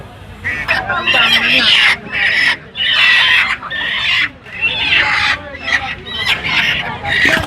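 Ducks for sale at a village market in Bogura, Bangladesh, quack and cackle loudly in close, repeated bursts, with the bustle of buyers and sellers talking among them.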